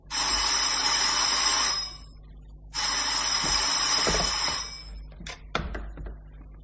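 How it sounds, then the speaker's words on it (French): An old-fashioned telephone bell rings loudly in two long bursts separated by a short pause, followed by a few clunks and thuds that suggest the receiver being picked up. "Ce fut le téléphone qui me réveilla."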